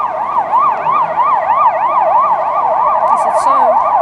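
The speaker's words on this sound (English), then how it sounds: "the sound of the city is the sound of sirens." Emergency vehicle siren wailing through the streets of Budapest, a loud, steady up-and-down warble that repeats evenly for several seconds, with faint city noise underneath.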